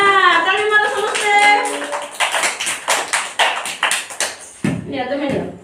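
Children clap their hands in a loose series of sharp smacks during an activity session, several claps in a row following a stretch of talk, with voices speaking before and after.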